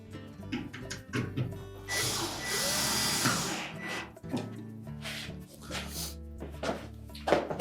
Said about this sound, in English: We're now ready to install the retaining screws.